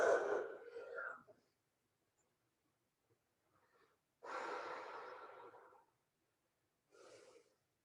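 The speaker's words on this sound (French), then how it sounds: "On écoute la respiration" Soft, relaxed breathing comes from a person lying in the crocodile yoga posture during an evening class, with three slow, airy breaths: a long exhale in the middle and quiet pauses between them, all close and faint.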